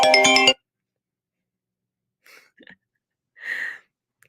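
A phone ringtone sounds for an incoming call from an unknown number, a short tonal ring that opens the moment, followed by silence and two faint, brief electronic chirps later on. Nobody speaks.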